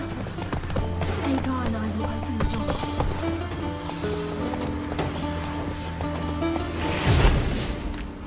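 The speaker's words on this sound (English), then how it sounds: "Gotta calm all the horses before they wake the guards." Horses in a stable in the video game The Witcher 3, with steady clip-clop hoof sounds and shuffling over a droning tonal music bed, then a brief louder whoosh near the end.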